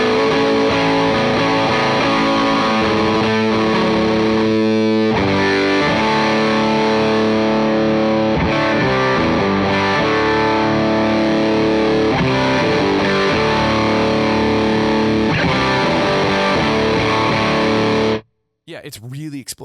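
Electric guitar driven through a Cornerstone Nero Fuzz pedal set to high gain, a loud, thick, saturated tone with sustained chords and riffs playing continuously for about eighteen seconds before cutting off abruptly, followed by a brief burst at the end.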